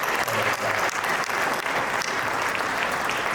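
An audience at an awards event applauds, a dense and sustained burst of many hands clapping at once, loud and continuous throughout.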